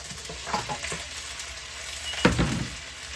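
Beef ribs dropped into a hot pot sizzle and fry, with a soft hiss broken by a few stirring scrapes and one louder clatter as the meat settles, fairly quiet and without talk.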